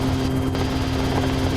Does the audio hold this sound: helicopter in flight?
yes